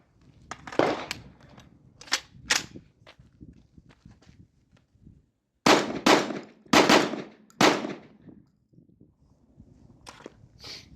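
Five shots from a Pat Kelly edition Genesis 12 shotgun loaded with Winchester 1290 one-ounce rounds, loud sharp blasts, two spaced early and three in quick succession later, with quieter handling noise between.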